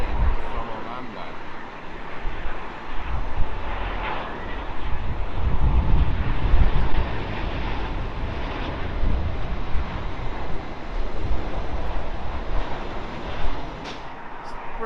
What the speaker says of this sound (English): British Airways 777-200, and that is coming in from Orlando.